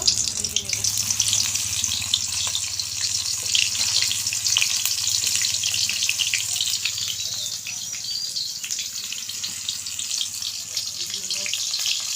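Steady, dense sizzling of stuffed pumpkin flowers frying in hot oil, a continuous crackling hiss that holds at an even level throughout with no talk over it.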